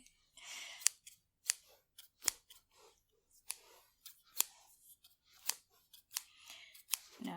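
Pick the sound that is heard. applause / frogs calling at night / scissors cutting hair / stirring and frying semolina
scissors cutting hair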